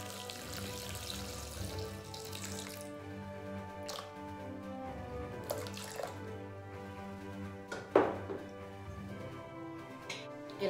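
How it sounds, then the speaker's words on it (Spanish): Water pours into a Thermomix bowl while making potato focaccia, a soft continuous trickle and splash at close range under a steady mechanical hum, with a brief louder splash near the end. "Añadiremos el agua."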